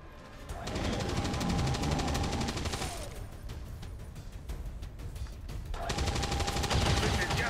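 Sustained suppressive gunfire from the XCOM 2 Long War of the Chosen video game rattles in two long, dense automatic bursts separated by a short lull, loud and continuous.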